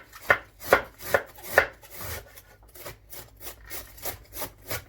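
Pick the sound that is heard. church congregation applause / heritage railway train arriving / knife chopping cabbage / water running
knife chopping cabbage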